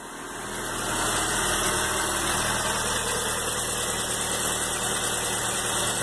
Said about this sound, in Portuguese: Carro já ligado.